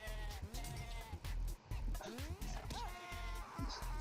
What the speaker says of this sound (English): The goat sound is good.